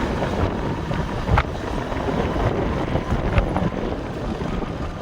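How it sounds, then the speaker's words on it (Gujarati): A cold sea wind blows at the seashore near a dargah, a steady, loud, rumbling rush that buffets the microphone with a few stronger gusts throughout. "દરિયાની ઠંડી ઠંડી હવા આવે ત્યાં લેરકી"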